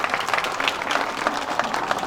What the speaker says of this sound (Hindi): मंच में बैठे हुए अतिथियों के लिए एक बार और जोर से ताली बजा दीजिए